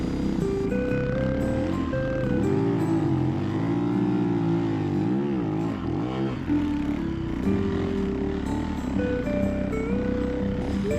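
Snowmobile engine running steadily on snowy trails near Bend, Oregon, a loud, close, continuous drone that rises and falls in pitch as the throttle changes, with no voices over it.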